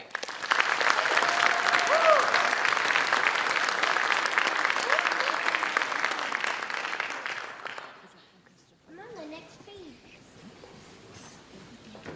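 An audience at a school board meeting applauds a student named Eliza, sustained clapping for about eight seconds that fades out, followed by someone speaking.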